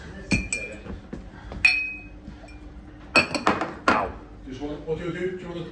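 Drinking glasses clink together in a kitchen, several bright, ringing taps spaced a second or so apart, close and clear beneath light conversation.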